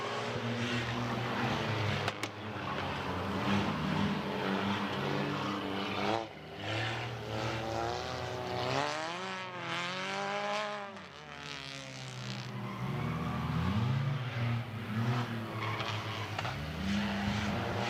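Figure-8 race cars roar through an 8-lap heat race at a speedway, loud engines revving and rising in pitch as cars sweep past close by, with one clear pass-by in the middle.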